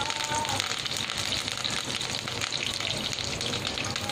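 Curry leaves hit a spoonful of hot oil in a pan with a steady, loud hiss and crackle of frying that holds evenly throughout, with a faint voice in the background.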